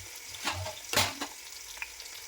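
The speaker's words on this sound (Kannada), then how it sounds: "ಒಳ್ಳೆಂಗೆ ಫ್ರೈ ಆಗಿ" Mutton for white mutton biryani, with green chillies added, fries in a pan: a steady soft sizzle broken by two or three louder scraping stirs, close by and with no talk.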